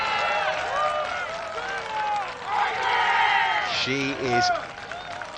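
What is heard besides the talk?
golf crowd cheering for Ina Yoon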